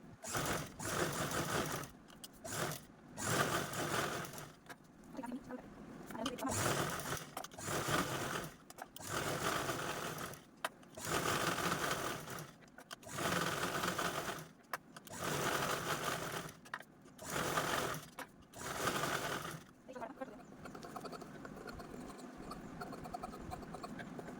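A sewing machine runs in repeated bursts of stitching, each lasting a second or two with short pauses between, as diagonal rows are sewn across blouse fabric. It sounds close and steady, and no voices are heard.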